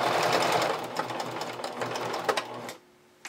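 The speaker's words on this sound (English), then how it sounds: "I'm top stitching it in place" A domestic sewing machine topstitches elastic onto a vintage-style bralette, running in a steady rapid whir with a few short bursts before stopping abruptly near the end.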